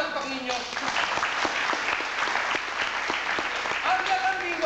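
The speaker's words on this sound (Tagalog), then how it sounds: "salubungin siya ng palakpak ninyo." Audience applause at a Filipino cultural show greeting a performer, a sustained wash of clapping from a crowd with voices and cheers mixed in.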